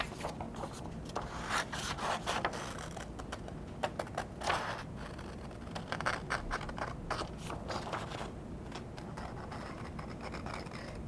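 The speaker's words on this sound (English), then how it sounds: "I'm going to take my scissors and cut out the heart" Repeated crisp snips and rustles of scissors cutting out a paper heart, irregular bursts close by over several seconds, no talking.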